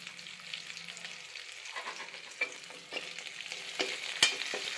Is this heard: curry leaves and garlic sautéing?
yes